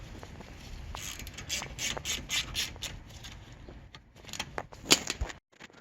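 Ratchet clicks ring out in quick, rhythmic bursts as caliper mount bolts are tightened on the rear brake of a BMW E39/E46, followed by a few sharper metallic clinks and knocks, all close up.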